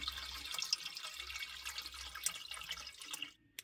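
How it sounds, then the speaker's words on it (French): Water drips drop by drop from a camper van tank, quick close plinks over a faint watery hiss that cuts off abruptly near the end. "Ça tombe goutte par goutte."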